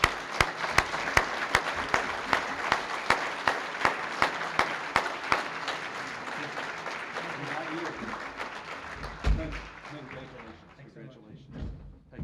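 Scattered audience applause at a small business awards ceremony, with sharp individual claps standing out up close over a thinner crowd. It fades after several seconds, leaving a few thumps and faint room noise.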